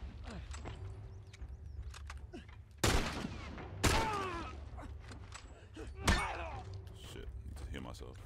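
Hunting rifle gunfire in The Last of Us game, three sharp, loud shots spaced a second or two apart, each with a ringing tail, over a low ambient hum and game sounds.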